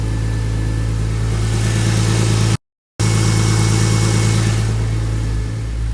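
A Porsche Boxster S sports car engine idles close by while warming up, with a deep, steady rumble, briefly cut to silence midway, then resuming at the same even pace.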